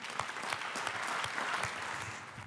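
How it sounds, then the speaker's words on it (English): A corporate event audience playing a Simon Says game claps in a fairly soft, steady round of applause, with individual claps audible through the dense patter. "if you're sitting, Simon says, give him applause."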